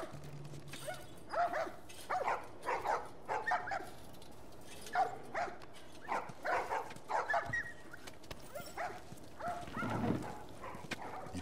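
A dog barks repeatedly in The Last of Us, a run of sharp, evenly spaced barks up close with a short whine among them.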